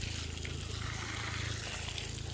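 Water poured onto the base of a durian tree after a flood, a steady soft splashing trickle that runs continuously and faintly without talk.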